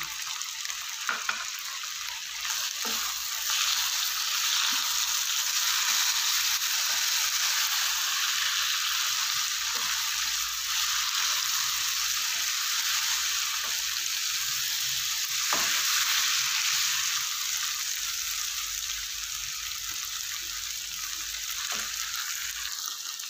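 Chopped tomatoes fry in a pan of mutton keema, giving a loud, steady sizzle with occasional spoon scrapes and clicks, close up and without talk.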